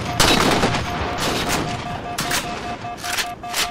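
Rapid gunfire from a Halo 4 multiplayer match with sniper rifles and SMGs, loud bursts of shots in repeated clusters with a steady tone running underneath.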